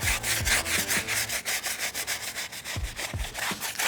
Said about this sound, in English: we're gonna be using our tire brush, which is gonna help us get into some of these grooves